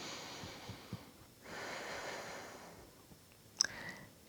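During a beginner yoga class for the neck and shoulders, a slow, quiet breath in and out through the nose is heard close up, a soft airy rush followed by a brief sharp sniff near the end.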